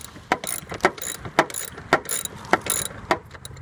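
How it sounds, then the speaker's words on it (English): A ratchet clicks in rapid, close bursts of several strokes each while removing 10mm bolts from a Dodge Neon's air filter canister, the bursts repeating evenly with short pauses between. "removing the 10mm bolts"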